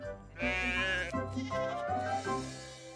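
Cartoon lambs inside a train wagon bleat loudly in several overlapping, wavering calls that carry on without pause for about two and a half seconds, with no talking.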